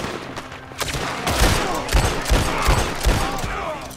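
Rapid volleys of revolver and rifle gunfire from the Red Dead Redemption 2 video game crack in close succession, several sharp loud shots in an irregular burst with little talk over them.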